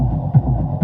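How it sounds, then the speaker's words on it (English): A dark techno synth sequence plays with heavy reverb. Low, throbbing pulses repeat roughly every half second over a steady humming wash, loud and alone, with no voices. "I'm gonna use the full reverb and start to move away the reverb more and more."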